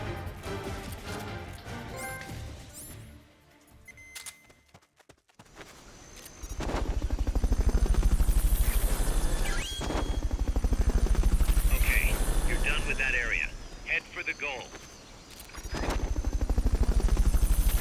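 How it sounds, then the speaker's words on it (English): Fulton recovery helicopter in Metal Gear Solid Peace Walker, a loud, steady rotor roar that swells in after a quiet stretch, with a radio voice speaking early on. "Fulton recovery helicopter is complete"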